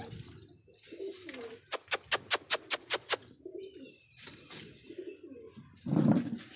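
Pigeons coo softly near the mic while eating grain, with a quick run of about seven sharp rhythmic calls in the middle and a few louder rustling bursts toward the end, no speech.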